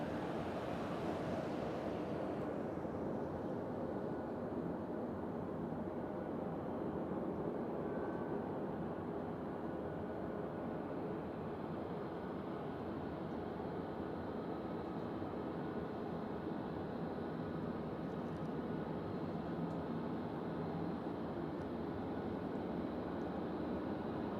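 Airliner taxiing at an airport, a steady broadband jet engine rumble and rushing roar that stays fairly constant at middle distance, mixed with wind noise, with no talking.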